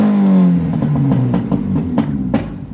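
Truck engine after new parts are fitted, a close, loud rumble that settles into a rough idle with a series of sharp rhythmic bursts and clattering revs.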